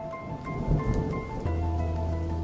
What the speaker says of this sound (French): Mais voilà que la pluie se fait plus forte.